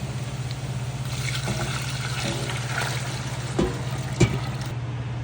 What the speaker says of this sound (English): I'm gonna add the water now